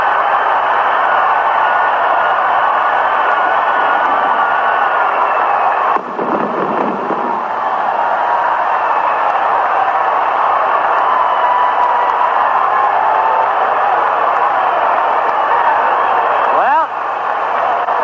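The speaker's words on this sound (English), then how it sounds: "You heard the fireworks, and you hear the crowd." A large baseball stadium crowd roars and cheers steadily after a home run at a White Sox game against the Yankees, with a few fireworks bursts and an announcer talking over the din throughout.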